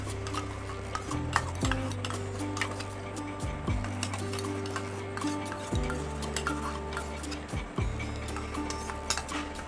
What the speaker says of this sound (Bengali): এবার আমি এটা মিশিয়ে নেব